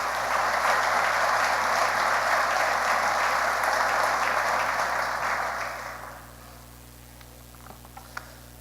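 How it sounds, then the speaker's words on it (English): Audience applause for a speaker at an alumni Thanksgiving breakfast: sustained room-wide clapping that fades out over a couple of seconds, leaving a quiet room with a few faint knocks. "So give Joe a round of applause."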